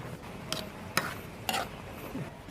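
Beef broccoli with cauliflower being stirred in a pan, with a few distinct scraping strokes of a utensil over a faint sizzle, fairly close and with no talking.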